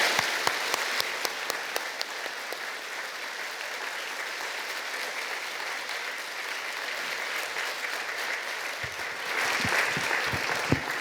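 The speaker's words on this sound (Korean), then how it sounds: "우리 박수를 보내주시기 바랍니다" A church congregation applauds during a Sunday worship service, steady moderately distant clapping from many people that swells a little near the end.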